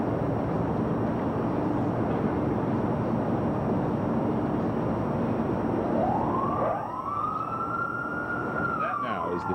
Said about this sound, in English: Is the 15-second siren.